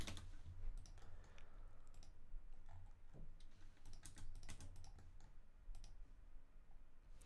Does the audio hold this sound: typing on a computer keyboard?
yes